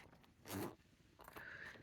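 Large plastic-toothed zipper on a Longchamp Neo nylon bag, two quick close zipping strokes with a short pause between, quiet and alone.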